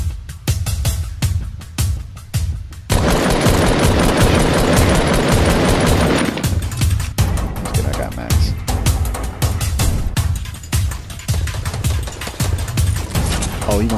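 Gunfire in a Fortnite Battle Royale match on PS4: rapid bursts of automatic fire, then a long sustained loud volley and further staccato shots, close and dominant over the game audio.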